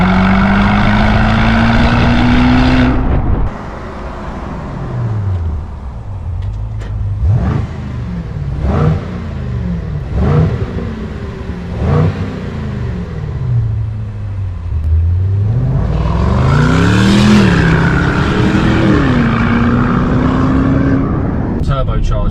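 The turbocharged V8 of a 2023 Range Rover P530 L460 Vogue with a valve-controlled exhaust idles, then revs several times and climbs into a long, loud rising pull close by, while a voice talks over it.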